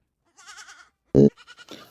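A goat kid bleating in a few short, quavering calls, close and clear, with one brief louder thump or voice burst between them.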